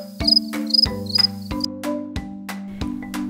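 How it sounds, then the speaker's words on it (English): Crickets chirp in a series of sharp, evenly spaced pulses with a high ringing tone, clear and close with quiet gaps between. "A cricket makes a chirping sound."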